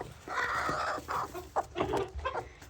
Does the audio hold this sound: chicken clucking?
yes